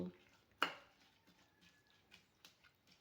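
Omelette egg mixture with salt and green chillies being whisked in a bowl, heard faintly and close: one sharp clink of utensil on bowl, then a run of soft scattered taps and scrapes.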